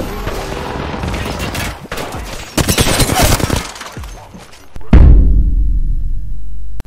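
Rapid gunfire in a first-person shooter video game, dense cracking bursts over several seconds, ending in a heavier boom with a lingering low rumble, loud and close.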